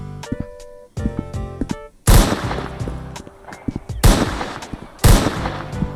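Glock 18 pistol fire in the video game A Long Road: a few sharp single shots, then three loud bursts of rapid shots spaced about two seconds apart, close and dominant.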